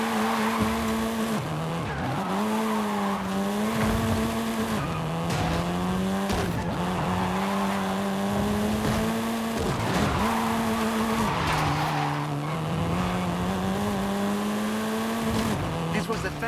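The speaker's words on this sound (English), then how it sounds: "This version is the Volkswagen Golf R" A 7th-generation Volkswagen Golf R in Forza Horizon 5 drives hard, its engine note holding steady with shifts and dips while tires squeal repeatedly through corners, loud and close.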